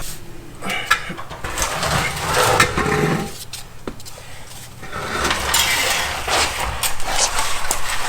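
A Nissan Skyline R33 engine runs and revs unevenly nearby through a long exhaust, with rising and falling roars, some clunks and rattles as it pulls out.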